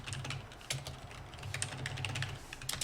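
Quiet computer keyboard typing as text is entered for a blog button, a loose run of soft clicks with brief pauses, close and unaccompanied by speech.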